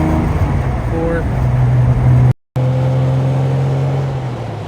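A 1966 Maserati Mistral 4.0-liter coupe cruises on the road, its engine droning steadily and fairly loud from inside the cabin, briefly cut by a short gap of silence, with no one speaking.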